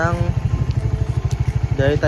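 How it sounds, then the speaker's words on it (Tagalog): A Suzuki Raider FI streetbike idles close by with a loud, steady, rapid engine pulse that stays even throughout. "Yun yung motor natin"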